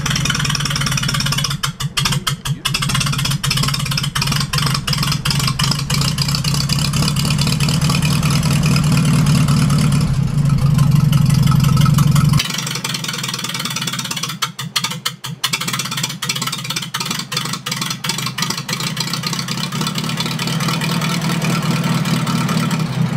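A 74-year-old vintage tractor engine, left in a barn for 20 years, runs with a steady chugging idle and a brief rise in pitch midway before settling into a lower, rougher idle, with scattered clicks and knocks.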